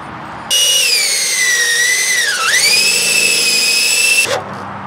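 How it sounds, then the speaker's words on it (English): A power drill spins a bit on a Mercedes W123 ball joint job, giving a loud steady high whine that bogs down briefly midway, recovers, then cuts off abruptly. "This is how not to use a drill bit."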